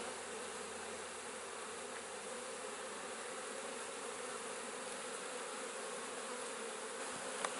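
Honey bees swarm around an opened nine-frame brood nest hive, a dense, continuous close buzzing that holds steady throughout with no voices.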